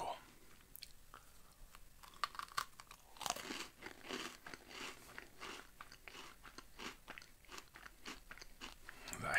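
Close, crisp crunching and chewing of an Oreo cookie filled with Pop Rocks candy, with irregular bites and crackles running throughout at whisper-level volume.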